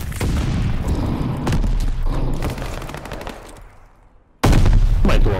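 Grenade blast in the shooter Call of Duty: Vanguard, heard amid a run of sharp gunfire cracks that fade into a quiet tail before one loud, sudden boom slams in near the end.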